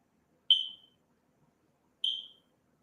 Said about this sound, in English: Don't talk about the smoke detector